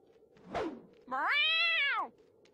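Cartoon cat giving one long, drawn-out meow, loud and close, preceded by a short dull thump.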